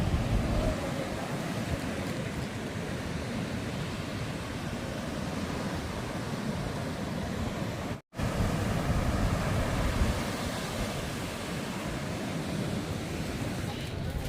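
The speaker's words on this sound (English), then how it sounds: "So the water is turbulent right now, but it is not always that way." Turbulent ocean surf churned up after severe rain and thunderstorms near a resort in Macao, a steady, loud broadband roar of crashing water and wind that stays close and continuous, with a brief dropout partway through.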